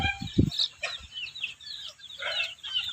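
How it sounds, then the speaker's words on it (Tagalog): Chickens on a coconut farm cluck and call close by, with a couple of low thumps and a brief wing flutter early on, then scattered clucking continuing through a quiet outdoor setting. "Ang dami ang alagang manok."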